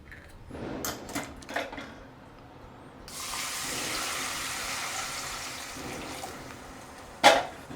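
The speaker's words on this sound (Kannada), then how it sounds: "ಇವಾಗ ನೀರು ಹಾಕ್ಬಿಡೋಣತ್ತಲ್ಲ" Water pours steadily into cooled rava and chana dal payasa for several seconds after some light clattering, ending with a sharp clunk.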